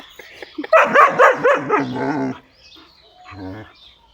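A German Shepherd and a street dog clash in a burst of loud, rapid barks and snarling yips, followed by a short quieter pause and a few more whimpering barks, close and harsh.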